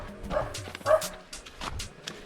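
A dog gives a couple of short barks at moderate distance on a jungle path in the Andaman Islands, with scattered rustling and footsteps around it.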